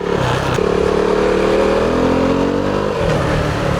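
A KTM Duke 390 motorcycle, the older BS3 version, accelerates hard with its single-cylinder engine revving up in a rising drone, loud and close, easing briefly before pulling again.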